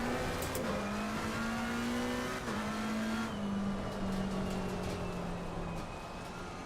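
Race cars in Assetto Corsa Competizione at Snetterton, engines droning loud and steady close by with shifts in pitch as the car accelerates and changes gear, other cars audible nearby.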